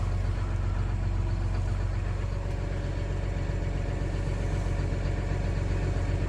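A John Deere 6530 tractor with a 145-horsepower engine and 7,827 engine hours idles steadily and evenly. The loud, continuous rumble is close by and never changes, with no voices.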